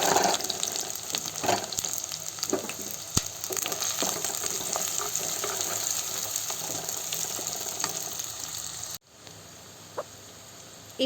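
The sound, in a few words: onions, garlic and chilies sautéing in a pan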